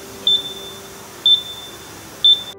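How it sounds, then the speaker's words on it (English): A NitroFill E-170 tire inflator gives three short, evenly spaced electronic beeps about a second apart, clear and close over a faint steady hum. "the unit will again emit a beeping signal indicating the service is complete"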